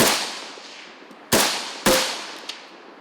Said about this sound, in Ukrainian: Сьогодні вчилися стріляти зі стрілецької зброї до малої цілі 100 метрів